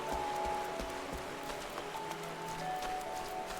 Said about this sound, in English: It's raining pretty bad.